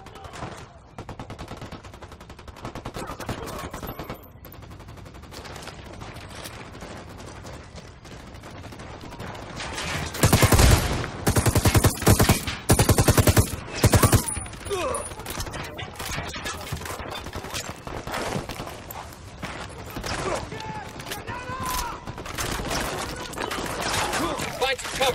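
Squad gunfire in the tactical shooter game Ghost Recon Wildlands: rapid bursts of automatic fire erupt loudly and close, peaking in a dense volley midway, then sustained shots continue amid game sounds and voices.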